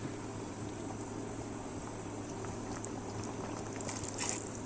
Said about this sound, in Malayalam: 3 ഗ്ലാസ് വെള്ളം ഒഴിക്കുക